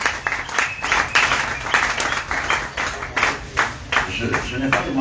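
Congregation applauding during a church service, loud clapping that swells in rhythmic pulses, with voices mixed in.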